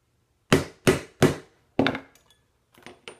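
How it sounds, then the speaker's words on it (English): A hammer strikes a punch setting a rivet on a small anvil stacked on a larger anvil: three sharp metallic blows in quick succession, then a fourth, followed by lighter taps, close and clear with no talking. "I've got my tiny anvil on my larger anvil, and then I'm setting my punch right on that rivet."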